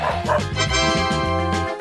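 A cartoon dog barks and yips in a steady run of bow-wows, loud and close, over a bed of bright cartoon music.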